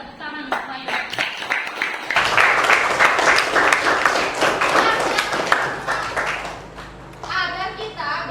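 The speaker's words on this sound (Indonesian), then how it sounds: "Nah, tepuk tangan untuk saya." Students in a classroom clap together in a sustained burst of applause, with children's voices chattering and calling out underneath throughout.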